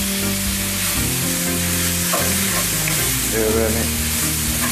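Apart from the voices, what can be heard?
stirring and frying keema mince in a pan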